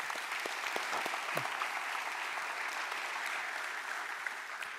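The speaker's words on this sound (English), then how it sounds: "Can we give them a round of applause, please?" An audience at a regional high school sports awards ceremony gives a round of applause, a steady, dense clapping that fills the whole clip with no break.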